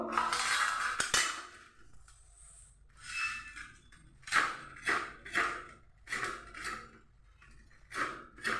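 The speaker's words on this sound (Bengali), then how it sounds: "প্রথমে আমি কচুগুলোকে সবগুলোকে এভাবে ছিলে নিচ্ছি" A knife peels large round taro roots in short, rhythmic scraping strokes, each a dry rasp separated by brief pauses, close and fairly quiet.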